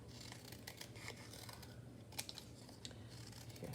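Quiet, close snipping and crinkling as scissors cut cardboard, a run of small crisp cuts with irregular rhythm, no speech.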